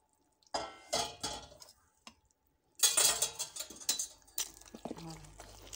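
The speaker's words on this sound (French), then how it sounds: "Je vais faire le mélange." Ingredients mixed in a bowl during home cooking, with bursts of utensil scraping and clinking against the bowl, close and fairly loud, separated by brief pauses, no talk.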